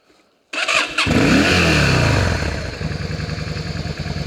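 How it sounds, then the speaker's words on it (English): A motorcycle engine starts with a clattering crank, then catches and revs loudly before settling into a steady, throbbing idle close by. "the equally absolute joy of riding a motorcycle"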